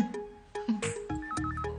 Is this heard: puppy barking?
no